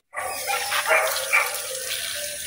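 Water gushing steadily from a garden hose at a house, a continuous close splashing rush that starts abruptly and carries on without pause.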